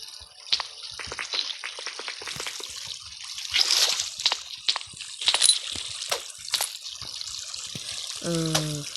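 Water sloshes and trickles in a Minecraft game, with scattered splashes and drips of varying loudness over several seconds and a brief tonal game sound near the end.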